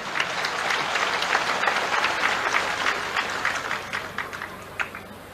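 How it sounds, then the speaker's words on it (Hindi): Audience applause at a New Year gathering in Raipur where the Chief Minister is speaking, with steady clapping from a crowd that holds for several seconds and then thins out. "अब ताली वाली जोर से बजाओ"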